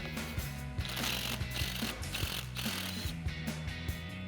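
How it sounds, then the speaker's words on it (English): A ratchet fitted with a 13mm socket loosens the front axle nut on a Ford F-150, giving a series of quick mechanical clicks in short bursts at close range, with no talking. "Now we use our 13mm socket to remove our axle nut."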